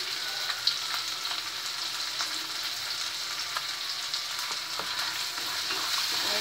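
Salted onions frying in a pan, a steady close hiss of sizzling oil broken by occasional clicks and scrapes as they are stirred, with no voices.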